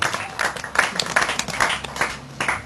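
A congregation at a Christian youth revival meeting in Thottagudem village claps together in steady, rhythmic bursts. The clapping is close and fairly loud and is heard without any talk.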